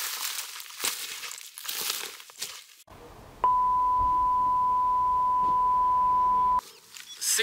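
A metal detector sounds a steady, clear electronic tone that holds unbroken for about three seconds at an even level, following soft rustling and handling noise in the field.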